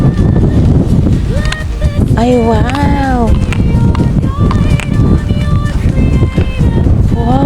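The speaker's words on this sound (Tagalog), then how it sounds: "Grabing lakas ng hangin dito guys." Strong wind roars continuously across the open summit of Mount Banoy, the highest peak in Batangas at 960 meters, buffeting the microphone with loud steady rumble while a hiker exclaims over it.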